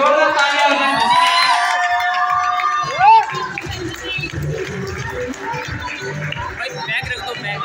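Audience at a dance competition prize-giving cheers and claps for a senior solo first-prize winner, a loud crowd roar with shouting and a brief whistle-like squeal, continuing as steady hubbub with chatter.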